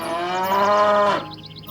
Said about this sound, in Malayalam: കാള മുക്കറയിടുന്ന ശബ്ദം കാട്ടിലെങ്ങും അലയടിച്ചു.